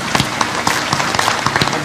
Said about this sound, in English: Let's give Mr. Justice a round of applause.